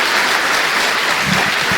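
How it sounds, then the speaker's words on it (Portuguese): A church congregation claps together in sustained, dense applause, steady and fairly loud throughout, with a faint voice surfacing near the end. "Dê uma salva de palmas a Jesus."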